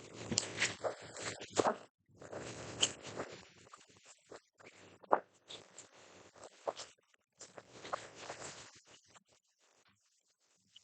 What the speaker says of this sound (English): I shuffle cards.